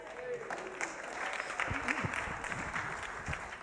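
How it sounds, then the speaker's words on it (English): Applause from a live storytelling-night audience at a December event, steady and moderately loud, with a voice speaking over the clapping partway through. "applause to the wonderful Christopher Hogg"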